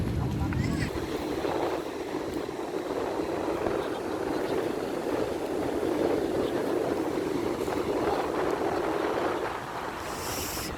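Sea waves at Cox's Bazar beach: a steady, loud wash of surf with strong wind noise buffeting the microphone, continuous throughout and swelling slightly near the end.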